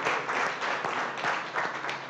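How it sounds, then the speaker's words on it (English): Audience applause for the Tampa Bay Times at a public event, a steady wash of clapping that holds for about two seconds at moderate loudness with faint voices beneath. "Big round of applause to the Tampa Bay Times."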